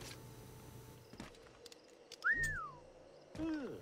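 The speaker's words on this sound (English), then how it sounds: "Did I just whistle at him already?" Whistling from a character in Assassin's Creed 4 Black Flag, heard as a single rising-then-falling whistle near the middle, then a second shorter falling whistle near the end, over quiet game ambience with no talk.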